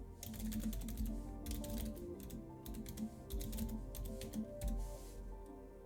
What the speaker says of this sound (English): I'm going to type it in myself.